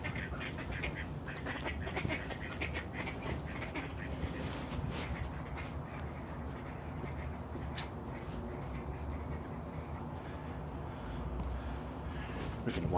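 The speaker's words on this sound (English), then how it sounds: "Check these ducks out. Trying to court the female." Ducks on a city lakeshore in spring, a male courting a female, with repeated quacks over a constant urban background hum for the whole stretch.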